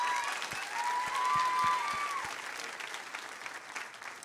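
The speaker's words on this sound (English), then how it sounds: "I would like to give Lexi another round of applause." An audience claps in warm applause lasting a few seconds, with a few sharp claps standing out and the sound slowly tapering off.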